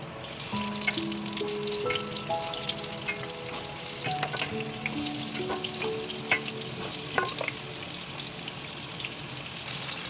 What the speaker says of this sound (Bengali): আমার তেল গরম হয়ে গেছে, আমি এগুলোকে ভাজতে দিয়ে দিচ্ছি।